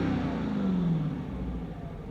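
A 2021 Dodge Challenger Hellcat engine revs under throttle, a loud, close, continuous roar whose pitch sweeps down as the revs fall, with no voices.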